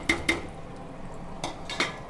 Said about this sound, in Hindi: इस तरह से हम लगातार कड़छी को हिलाते हुए आटे को अच्छे से भूनेंगे